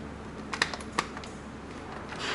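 A wrench ratchets in short bursts of quick, clicking ticks during motorcycle exhaust work, the clicks close and crisp over a low background hum.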